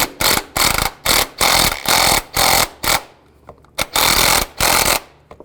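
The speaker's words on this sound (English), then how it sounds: "Take these 3 bolts out, use a 15mm socket." A power tool spins in short bursts on engine mount bolts of a Chevrolet Equinox with a 15mm socket, about ten loud whirring pulses separated by brief pauses and faint clicks.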